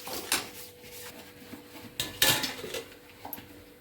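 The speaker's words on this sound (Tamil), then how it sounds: "குழம்பு கொதிக்கட்டும் மூடி வைக்கலாம்" Metallic clatter of a lid set onto a pot of simmering egg curry, a few sharp clinks and knocks over a quiet kitchen background.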